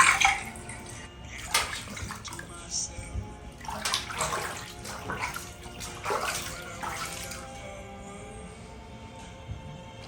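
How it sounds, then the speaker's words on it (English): Water is poured and splashed over a cat being bathed for grooming, in quiet, intermittent gushes and trickles that come in uneven bursts with softer dripping between them. "You want her to be completely soaked, or rather drenched in water."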